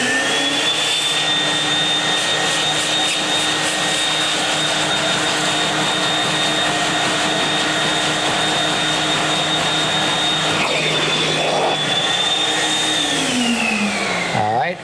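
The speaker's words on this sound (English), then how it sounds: "let me vacuum that and see what we got" A carpet-cleaning vacuum tool runs loud and close over an egg stain on carpet in a 1991 cleaning seminar, a steady whining roar that shifts briefly near the end as it winds down.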